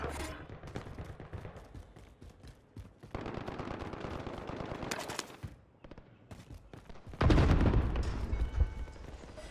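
Rapid automatic gunfire from a picked-up gun in a first-person shooter, with dense bursts and short pauses that build to a loud, heavy volley near the end.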